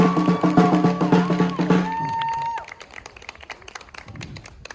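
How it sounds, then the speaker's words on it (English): Audience at a student rally for Palestine at Cardiff University breaks into loud applause and rhythmic clapping alongside sustained chanting tones, which fade after a couple of seconds into scattered claps and murmuring voices. "let's give them a big round of applause."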